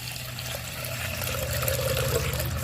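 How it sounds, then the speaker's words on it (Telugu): Cold water is poured into curd in a bowl for buttermilk, a continuous trickling splash over a steady low hum, close and fairly loud. "చల్లటి నీళ్ళు వేసుకోవాలి"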